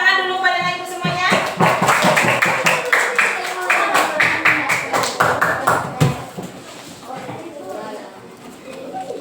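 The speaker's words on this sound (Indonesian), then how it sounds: "Tepuk tangan dulu pada ibu semuanya." A class of young schoolchildren breaks into a burst of dense applause lasting several seconds. Someone speaks over it, then talk continues after the clapping dies down.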